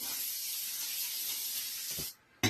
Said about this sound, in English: I'm going to spray some little coat of olive oil on my pan